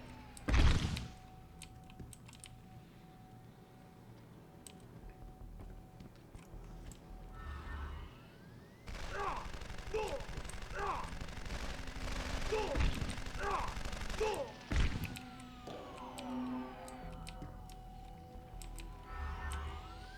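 Gunfire in the game Deus Ex: Human Revolution during a boss fight in an office, with sharp shots and bursts scattered over a steady electronic hum and game score, some hits loud and close, others rapid and clustered.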